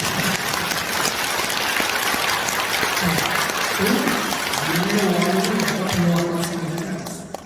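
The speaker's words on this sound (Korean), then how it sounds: "이때 한번 박수 치시기 바랍니다." An audience at a lecture in Seoul claps continuously in a dense, even patter, and a voice speaks over the applause toward the end.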